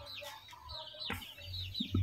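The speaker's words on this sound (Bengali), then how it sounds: "মুরগির বাচ্চা দেখতে পাচ্ছেন যে কত সুন্দরভাবে এবং কত তাড়াহুড়ো করে এই ফিডগুলাকে খাচ্ছে" Native chicken chicks peck at mixed feed with soft, high-pitched clucks and cheeps, scattered chirps close by with a few small taps toward the end.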